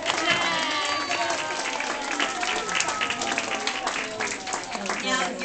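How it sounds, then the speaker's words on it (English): An audience at a children's school performance claps steadily and continuously, with scattered voices cheering over the applause. "So everybody clap."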